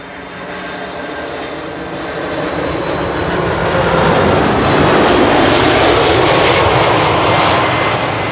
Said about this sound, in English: It's a Boeing 747-400 freighter.